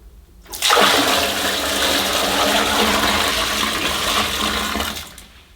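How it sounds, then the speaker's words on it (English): Dirty carpet-cleaner water is tipped down a toilet, making a loud, sustained rushing pour and splash that starts abruptly and runs about four seconds before tailing off. "So I'm going to tip this down the loo."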